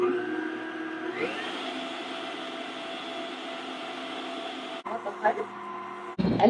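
An electric mixer whirs steadily through cupcake batter with a sustained motor drone. It speeds up early on, then gets choppier and bumpier as the beaters shift, with brief breaks near the end.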